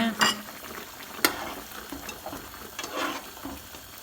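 Oysters go into a boiling rice cake and dumpling soup pot, giving a few sharp clinks and soft splashing stirs over a faint simmer, with scattered quieter knocks in between.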